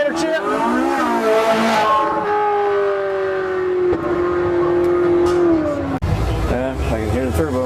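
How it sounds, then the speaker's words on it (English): A Koenigsegg Regera RS Phoenix hypercar revs loudly at a car show, its engine pitch climbing and holding in long sweeping tones with a whistling turbo, a brief cut near the end before it revs again. "Yeah, I can hear the turbo."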